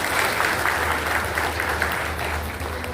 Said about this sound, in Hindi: और सभी इनको एक बार तालियों से इनका स्वागत करेंगे।